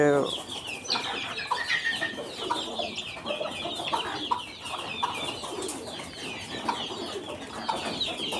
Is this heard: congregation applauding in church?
no